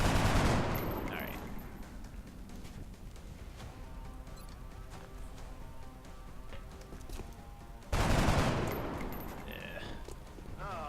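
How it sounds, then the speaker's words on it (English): Rapid bursts of automatic gunfire from the XCOM strategy game, loud at the start and again after a pause, with a steady game soundscape between volleys and no talking. "I can definitely take a couple pot shots at him."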